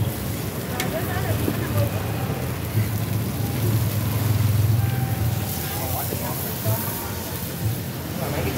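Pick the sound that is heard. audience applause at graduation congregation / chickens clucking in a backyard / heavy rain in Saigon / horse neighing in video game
heavy rain in Saigon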